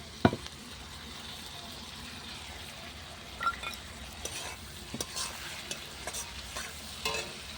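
Continuous sizzling of ginger-garlic paste frying in a pan with a spatula stirring and scraping, occasional sharp taps against the metal, close and fairly loud.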